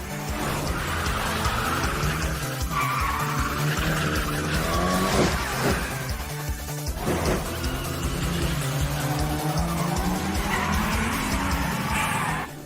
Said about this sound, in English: You can kick it out and drift right on through this corner.